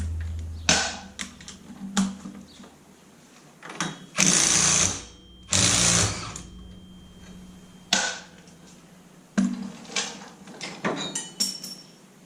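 A 27 mm nut comes off the front differential of a Polaris RZR XP1000: loud, close mechanical bursts of a power tool whirring for about a second each, with sharp clanks and metallic knocks of parts being handled between them.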